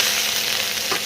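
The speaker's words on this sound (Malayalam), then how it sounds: "എണ്ണ പാർന്ന് അതിലേക്ക് നമുക്ക് വെള്ളുള്ളി ഇട്ട് കൊടുത്തിട്ടുണ്ട്" Garlic frying in hot oil in a pan, a continuous close hiss and crackle of sizzling.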